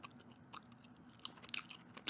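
Gum chewed close to the mic in a quiet ASMR setting, with soft wet smacks and sharp little clicks coming in an irregular rhythm and no talking.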